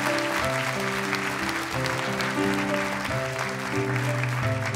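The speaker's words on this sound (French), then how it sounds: "On l'applaudit, Antonin." A television studio audience applauds a child contestant on a children's singing show, the clapping running steadily underneath loud, sustained musical notes that play throughout.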